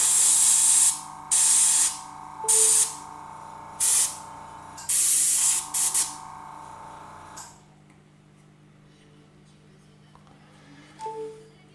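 An airbrush spraying Vallejo paint gives a series of loud, hissing bursts of varying length, five or six in a row, followed by quieter background with faint tones.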